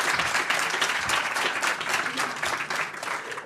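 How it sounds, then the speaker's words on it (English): An audience at a food waste summit conference applauds, giving a dense, steady burst of many hands clapping at once that carries evenly from start to finish. "Yeah, I hear the applause."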